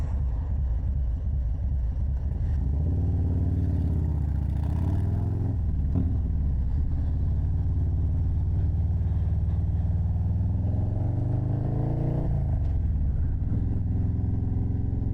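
A motorcycle fitted with an aftermarket cam and exhaust rides continuously, its deep rumbling engine note rising and falling with throttle changes, loud and close throughout with wind and road noise.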